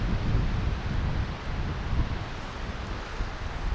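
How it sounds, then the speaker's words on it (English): A strong wind blows at a tarp campsite among trees and deadfall, a continuous loud rumbling roar with heavy buffeting on the microphone and no letup, with no talking. "And it is extremely windy."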